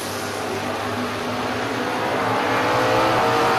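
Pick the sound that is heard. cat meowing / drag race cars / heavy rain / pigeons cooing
drag race cars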